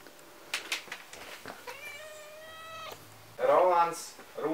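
A Polish cat named Gustiņš meows a few times, drawn-out calls close by, with people talking around and between the meows.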